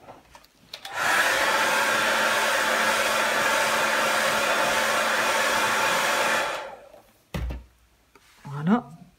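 A hair dryer blows on green paint on a rhodoid sheet for a craft tag, running as a loud steady whoosh for about five seconds before switching off, followed by brief handling noises and a short voice.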